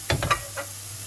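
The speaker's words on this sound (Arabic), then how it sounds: "خلي نص نقلي فيه الكرات والنص الثاني" Leeks sizzling in a large frying pan over a big flame, a few short bursts of hiss and crackle up close, then fading to a quiet background.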